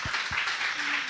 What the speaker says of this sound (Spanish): darle un aplauso de bienvenida a Bernardo